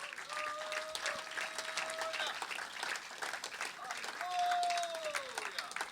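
A church congregation bursts into sustained, dense applause for a worship service, with scattered voices shouting and calling out over the clapping, swelling louder toward the end.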